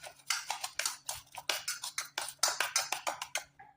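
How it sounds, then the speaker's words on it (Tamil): Quick, rhythmic scraping and clinking of a utensil stirring onion and tomato ketchup in a bowl, repeated strokes close to the microphone with no talking. "போட்டு நல்லா மிக்ஸ் பண்ணிக்கலாம்."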